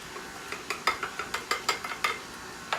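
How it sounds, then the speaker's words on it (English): A bread machine mixing passion fruit cake batter gives off a run of quick rattling, clicking mechanical knocks in an uneven rhythm, fairly close and moderately loud, with no voices. "I'm going to turn my machine on and I'm going to add it."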